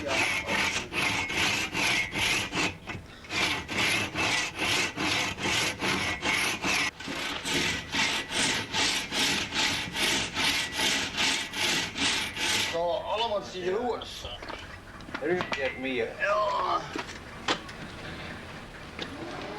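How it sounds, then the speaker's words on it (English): A hand saw cuts a wood blank for a saddle frame, using naturally curved wood in a pre-electric German workshop. Fast, steady rasping strokes run close and loud, then break into slower, scraping irregular sawing near the end. "The sound of the blade and the vibrations transmitted through the hands tell the craftsman whether he is following the grain or fighting against it."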